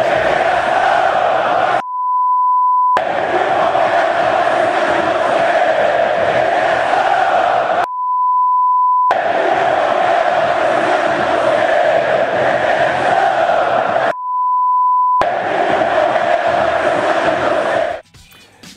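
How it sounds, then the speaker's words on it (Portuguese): Palmeiras football fans in a stadium loudly chanting in unison against the São Paulo football federation, a dense roaring crowd chant sustained throughout, broken three times by a steady censor beep. "A torcida do Palmeiras ontem também estava revoltada com a Federação Paulista de Futebol. E mandou o recado também"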